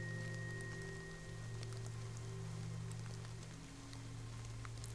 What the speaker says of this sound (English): I think the rain will cover the footsteps.